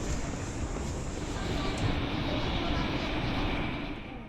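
KTX-Eum train at a Seoul railway station platform, a broad steady rumble and roar of the train and station that fades slightly toward the end.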